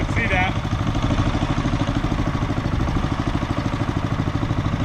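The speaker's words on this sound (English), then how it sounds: "this is idle right here" A long tail mud motor idles on a boat cruising at low speed, a steady, rapid, throbbing putter that stays close, with a brief high tone near the start.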